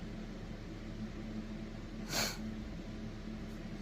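One short, sharp sniffle cuts through a quiet room with a low background hum; nothing else happens before or after.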